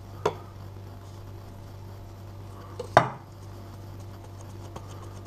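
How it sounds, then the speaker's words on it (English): A knife scores marks into sweet potato damper dough, giving two soft taps against the board a few seconds apart, close and clear over a steady low hum. "we'll get our knife and we'll cut a few marks into the dough so that it'll separate properly"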